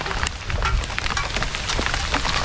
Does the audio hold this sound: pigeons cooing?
no